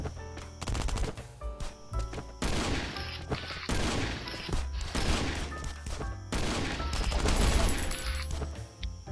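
Shotgun fire rings out in the survival video game Last Island of Survival, several loud, close bursts of blasts separated by short pauses, with game ambience humming in between.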